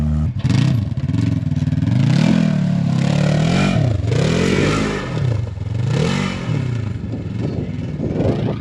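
A Toyota rock buggy engine revs hard at full throttle, loud and close, with repeated rising and falling surges of revs and a rattling clatter, no voices.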